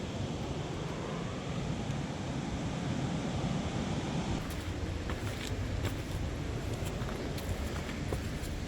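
Waterfall at the head of Piney Creek in Fall Creek Falls State Park, a continuous broadband rush of falling water, steady and enveloping, with faint clicks and handling noise partway through.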